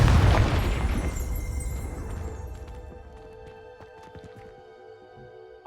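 A Confringo blasting spell erupts in Hogwarts Legacy with a loud, deep booming explosion that rumbles and slowly fades over several seconds, leaving faint ringing tones and scattered debris ticks.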